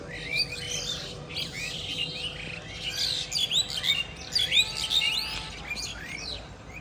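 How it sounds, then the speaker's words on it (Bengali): Myna birds chirp and chatter in the morning, a busy run of bright, varied calls that comes in overlapping bursts, fairly near, over a faint steady hum. "সকালবেলা পাখির কিচিমিচি সাউন্ডটা খুবই ভালো লাগে"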